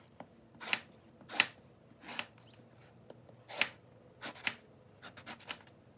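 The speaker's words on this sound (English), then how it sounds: "You're just going to cut off the top, and then we're just going to cube it." A knife chopping eggplant into cubes on a cutting board, about nine crisp close taps in an uneven rhythm, quiet and alone.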